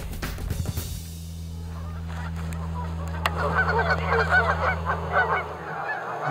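A flock of Canada geese honks repeatedly, the calls rising and overlapping as the birds approach, over a low steady rumble.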